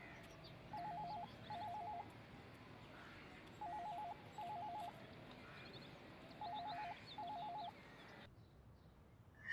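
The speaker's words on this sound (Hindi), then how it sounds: "फोन बज रहा है, जाओ फोन लेके आओ।" A telephone rings in a home in paired electronic trills. Three double-ring bursts come at regular intervals and stand out clearly against the quiet room.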